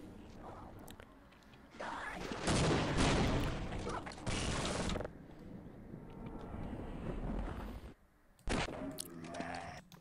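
Gunfire in the video game Half-Life: loud bursts of rapid fire in several blocks separated by quieter stretches of a droning background, ending with a short sharp burst.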